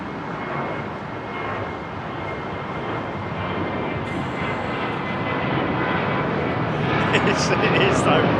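An airliner departing Heathrow Airport roars steadily with broad jet engine noise that swells slightly toward the end, while people talk over it.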